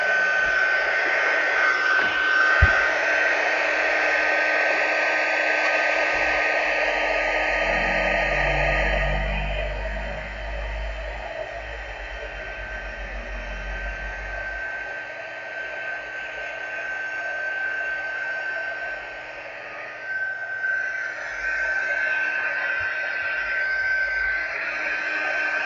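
Heat tool melting embossing powder on a handmade card, a loud, steady blowing hiss with an electric whine running continuously for about 25 seconds at close range.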